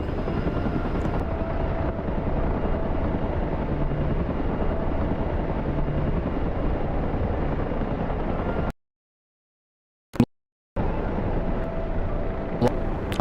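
A Chinook helicopter in a video game flies in, producing a continuous rumbling rotor drone at moderate level that cuts to silence briefly before resuming.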